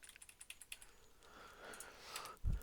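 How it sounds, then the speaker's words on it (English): Computer keyboard arrow keys tapped in a quick run of light clicks, faint and close, followed by a louder thump at the end. "I'll use my arrow keys to get it over"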